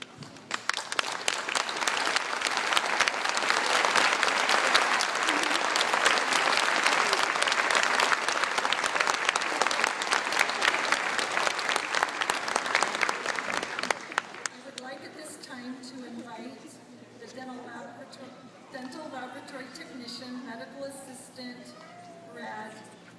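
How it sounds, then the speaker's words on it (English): A graduation audience at a Joyce University commencement applauds loudly and steadily for about fourteen seconds, then the clapping stops and a speaker continues over faint room noise. "Please stand in order for us to acknowledge your service with our applause."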